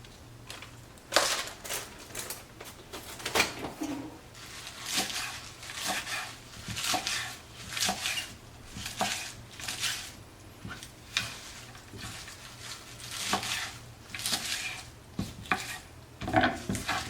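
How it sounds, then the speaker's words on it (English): Knife chopping baby spinach on a cutting board, a series of crisp, irregular taps in quick clusters with brief pauses, close and fairly clear, with no talking. "I'm going to chop some of that up and add it as well, just because I have it."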